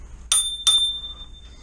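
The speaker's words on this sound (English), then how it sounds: "Do I keep the bell?" Two quick metallic rings from the bell on a BMX FMF cruiser bicycle, each a bright ding with a short shimmering decay, close and clear in a quiet room.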